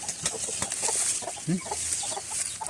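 A hen clucks over newly hatched chicks, with several short, soft clucks and faint peeps heard close by against a steady background hiss.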